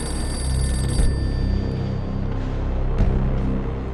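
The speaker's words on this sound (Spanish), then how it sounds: "El teléfono del castillo suena." An old castle telephone rings in a World War II setting, a shrill, continuous bell that cuts off after about a second over a dense rumble of background noise.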